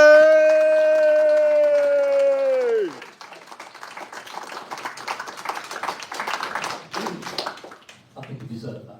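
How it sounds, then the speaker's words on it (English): A conference audience breaks into applause for a guest. A sustained voiced tone is cut off, then brisk, fairly close clapping follows, swelling and continuing unevenly to the end. "let's have a round of applause for Ben Walker"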